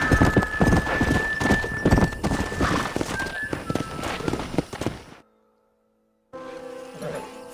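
Horse hooves clip-clop in a steady walking rhythm in the Red Dead Redemption video game, with a whinny and heavy thuds, before a sudden drop to silence and a quieter return.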